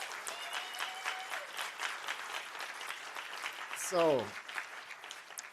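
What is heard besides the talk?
audience applause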